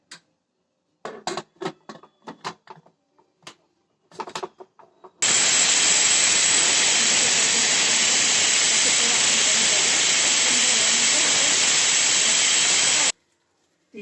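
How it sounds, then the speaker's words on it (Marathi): A kitchen pressure cooker cooking masala rice lets out a loud, sustained hissing steam release lasting about eight seconds, preceded by brief scattered clicks and rustles. "शिट्ट्या झाल्या गॅस बंद केला आता"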